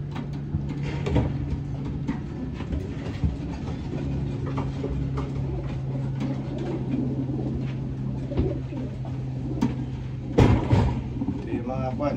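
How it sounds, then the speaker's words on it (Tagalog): Racing pigeons in a loft coo softly and repeatedly in the background, a low steady cooing layered under murmuring talk, with a brief louder rustle near the end. "Laking ibon na ito."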